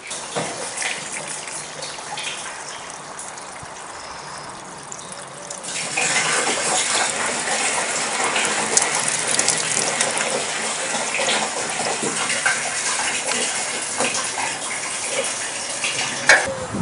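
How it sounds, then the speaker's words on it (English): Water is poured through newly fitted greenhouse guttering on an allotment plot, a continuous gushing, splashing rush that grows louder and fuller partway through and keeps flowing close to the microphone. "what I'm going to do now is pour some water through it and see if it goes in the right direction"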